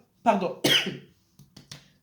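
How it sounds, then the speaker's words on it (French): A couple of sharp coughs close to the mic, followed by a few softer, shorter throat sounds, with quiet pauses between them. "À chaque fois, il faut que je tousse ici."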